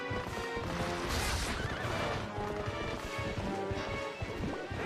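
Horses neigh and whinny loudly during a final boss fight in The Legend of Zelda: Twilight Princess, with hoof clatter and crashing game effects mixed in throughout.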